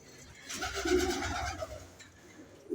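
Pigeons cooing in a rooftop loft, a few close, soft rolling coos that swell and fade over a low murmur of background noise.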